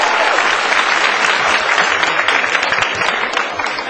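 Crowd applause at the 2005 World Pool Championship nine-ball match, a dense sustained roar of clapping from a large audience that holds steady throughout, with no voices standing out.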